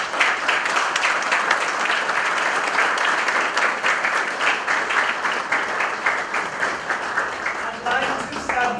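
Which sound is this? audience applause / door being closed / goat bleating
audience applause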